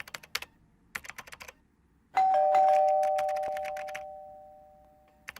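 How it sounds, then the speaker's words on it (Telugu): A doorbell rings out with a bright sustained chime that slowly fades, preceded by scattered soft clicks and taps, in a Telugu comedy film scene with no talking. "అరే బెల్ కొడుతున్నారు చూడు"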